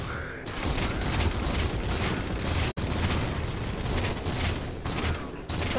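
Video game gunfire crackles in a continuous dense barrage, loud and close, with a brief cut partway through and faint voices underneath.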